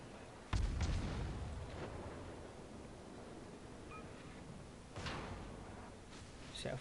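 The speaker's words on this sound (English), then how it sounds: "Now he's shooting at me." Enemy ship gunfire in World of Warships arrives as two heavy, muffled booms several seconds apart, the first louder, over a steady low rumble of sea and engine ambience, with no talking.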